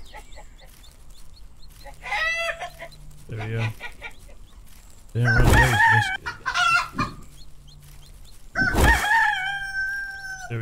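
Chickens in a survival simulation game cluck and crow in several loud bursts, with a rooster-like call standing out near the end, as someone talks briefly in between.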